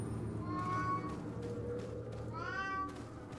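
A house cat meows twice, the first call a drawn-out whine and the second a rising, wavering cry, both close by over a constant low hum from a gaming setup.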